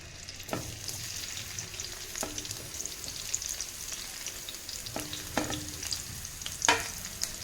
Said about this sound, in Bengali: তেল গরম হয়ে গেছে, প্রথমে আমি এখানে দিয়ে দিচ্ছি সিমলা মির্চ আর বেল পেপারগুলো